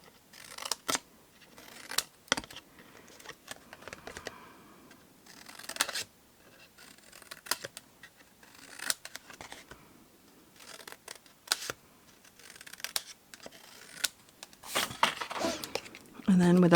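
Repeated crisp snips of scissors cutting through card, irregular bursts close by, separated by quiet handling noises.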